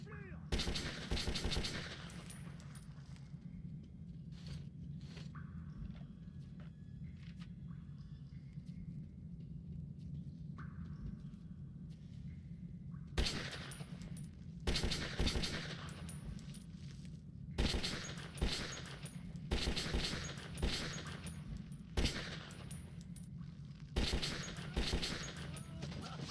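Gunfire in the video game Metro 2033, bursts of rapid automatic shots in several clusters over a low ambient hum, with quieter stretches between volleys and a few single sharp reports.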